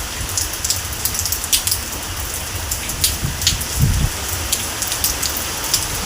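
Persistent rainfall outside a house makes a thick, near hiss with scattered louder drips and a brief low rumble midway, without any talk.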